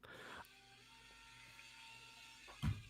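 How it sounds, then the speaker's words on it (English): A drill whining outside, a steady mechanical hum with faint tonal lines running for nearly three seconds, muffled and moderately distant, ending in a brief louder low thump. "damn somebody drilling outside"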